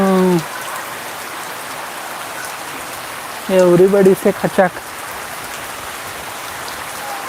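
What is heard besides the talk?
rain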